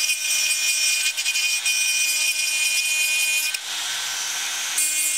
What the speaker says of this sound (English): on a sort of a high-speed tool, and just generally get rid of the rust